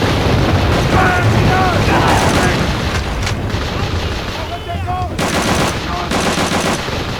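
Machine gun fire rattles through the Call of Duty: Roads to Victory video game in dense, continuous bursts mixed with booming impacts, loud and close throughout the scene.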